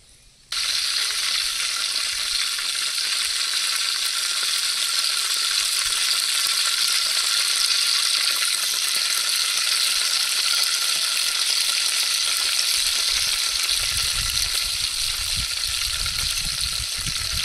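Onion frying in hot oil for a crab dish cooked outdoors, a loud steady hiss that runs without pause, with low rumbling handling noise near the end.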